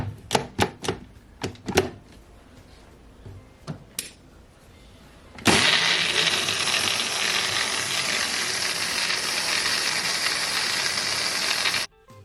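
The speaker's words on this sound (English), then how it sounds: "I'm gonna blend it all up." A blender runs steadily for about six seconds, blending oats, banana and apple into a smoothie, a loud continuous whirring roar that stops abruptly. Before it, a few sharp clicks and knocks are heard as the lid goes on.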